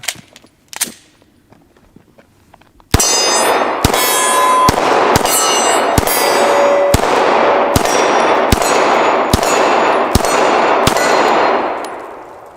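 Glock 19 pistol emptying a magazine at steel targets outdoors: about ten loud, sharp shots at a steady pace, each followed by a ringing metallic clang from the steel, preceded by a few faint knocks.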